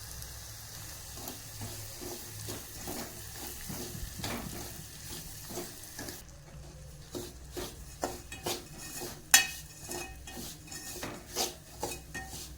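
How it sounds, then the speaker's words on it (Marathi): Semolina (rava) roasts in a pan for sheera as a spoon repeatedly scrapes and stirs it, giving faint soft sizzling under rhythmic metal-on-pan scraping. "हलका लालसर झाल्यावर यामध्ये रवा टाकायचा आहे. रवा हलका लालसर भाजून घ्यायचा आहे."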